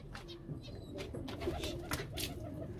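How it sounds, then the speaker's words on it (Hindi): Parrots kept in a bird enclosure alongside finches make faint, scattered chirps and soft coo-like calls over a constant background hiss and murmur. "और चलते हैं जरा तोतों की तरफ।"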